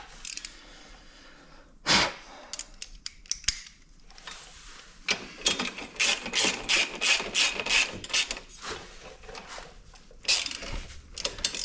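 A ratchet tightening bolts on a Suzuki King Quad 750 ATV during a CV drive belt change, rapid clicking pawl bursts in several close runs separated by pauses and occasional clanks of metal.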